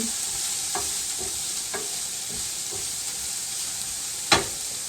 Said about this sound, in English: I'm going to saute this until it's a little brown